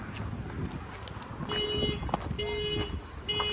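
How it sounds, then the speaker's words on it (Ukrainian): A car alarm goes off at an open-air used car market in Lutsk, with repeated electronic bursts in a pulsing pattern over a low, windy outdoor background. "Щось там сталося, не можуть відключити сигналізацію."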